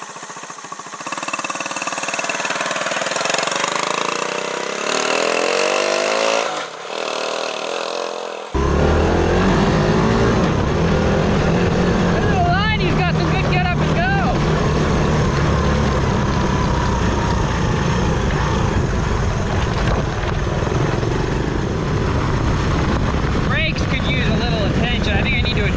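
A Honda Trail 90 motorcycle runs up and down a hill in high gear, its small engine buzzing loudly and steadily up close after a quieter start, with pitch rising and falling as it climbs and descends.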